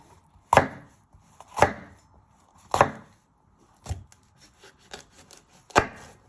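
A knife slicing through a halved, de-seeded pepper on a wooden board for chicken tagine, five or six sharp chops at an uneven pace, close and clear, no talking.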